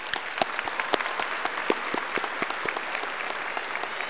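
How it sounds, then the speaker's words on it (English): Northshore High School 2018 graduation crowd applauding, a steady wash of many hands with sharp individual claps popping out across the full stretch, heard from within a large audience. "I think they all deserve a big round of applause"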